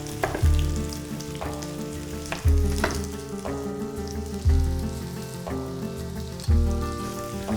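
Sliced potatoes fry in oil in a pan for a Miami-style Spanish omelette, giving a continuous close sizzle with a few louder crackling bursts every couple of seconds and no talk.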